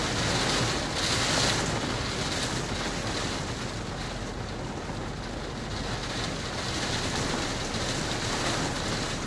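Heavy rain pours steadily during a severe Florida thunderstorm, a dense, loud, unbroken hiss with no pauses throughout.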